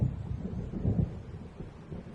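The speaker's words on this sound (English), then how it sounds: "It seems there's a storm coming." Rumbling thunder from an approaching storm in the video game Alan Wake, a deep rolling boom that swells and slowly fades away with no voices.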